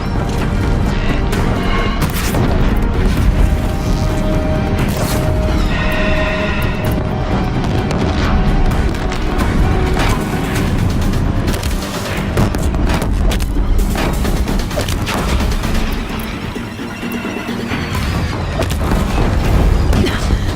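Explosions and weapon fire pound a bridge in Horizon Zero Dawn, a loud, relentless barrage of booms, crashes and rapid shots that keeps up with only a brief lull near the end.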